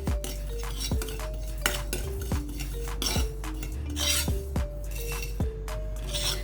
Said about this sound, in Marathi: म्हणून आपण हा ड्राय रोस्ट करणार आहे